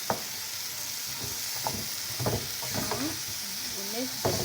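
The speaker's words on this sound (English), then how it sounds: "You see, our meat is cooking" Fresh minced meat frying in a pan and being stirred, a steady sizzle with scraping and knocking from the spoon, heard close with a few brief voice fragments over it.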